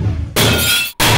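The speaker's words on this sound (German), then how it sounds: "dass er am liebsten Geschirr auf die Wände knallen würde" Crockery smashed against a wall in a rage room makes a loud, close crash of breaking dishes, followed by a short gap and a second sharp shatter.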